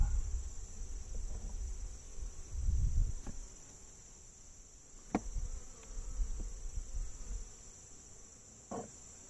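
Honey bees hum faintly around an opened beehive as the last few are cleared from a frame, with scattered clicks and knocks of hive equipment over a high steady insect drone.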